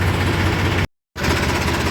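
A tractor engine runs at a steady idle with a dense, rumbling drone, cut by a short silent gap before the same loud chugging resumes.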